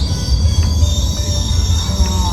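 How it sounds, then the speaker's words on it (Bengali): A train pulls into a station in Germany with a loud low rumble of rolling wheels, thin high metallic squeals from the rails and faint brake hisses running through the whole clip. "এখন আসছে ট্রেন, আমি ট্রেনে উঠলাম"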